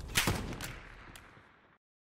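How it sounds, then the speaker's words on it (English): Gunfire in a video game, a few sharp close shots in quick succession that trail into a fading reverberant tail before cutting to silence. "Taking fire!"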